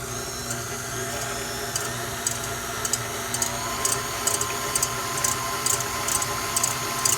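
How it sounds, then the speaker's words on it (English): An electric stand mixer with a whisk attachment beats egg whites for royal icing at medium speed, a continuous motor whir with faint rhythmic ticking of the whisk, steady and close, with no voices. "I'm going to put them with the whisk attachment, and I'm going to turn it on medium for a while"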